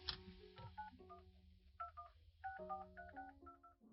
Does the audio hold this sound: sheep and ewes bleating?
no